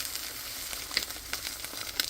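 An egg frying in a pan, a quiet continuous sizzle with small crackles and two brighter pops, no voices.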